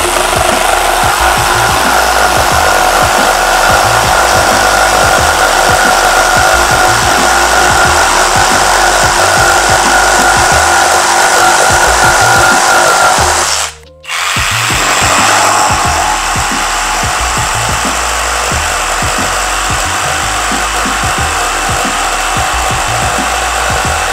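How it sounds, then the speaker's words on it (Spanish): A Dong Cheng cordless reciprocating saw cuts through a wooden post almost 8 cm square, a loud continuous buzzing rasp of the blade that drops out briefly midway, then resumes steadily. "la primera prueba vamos a cortar este polín que mide casi 8 centímetros por cada lado"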